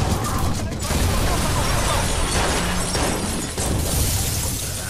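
Shootout gunfire in Watch Dogs at the Barrows, Brandon Docks, a dense loud barrage of overlapping shots and crashing impacts lasting the whole stretch, close and harsh with little pause.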